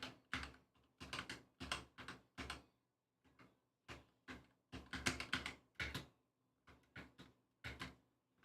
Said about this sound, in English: Gonna hear my keyboard anyways when I push buttons.